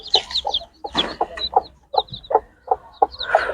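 A hen with her newly hatched chicks, loud close clucks coming in quick repeated bursts mixed with higher chirps, without talk.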